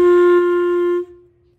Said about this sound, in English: The second note is second line G, and that is going to be nothing down, and it will sound like this.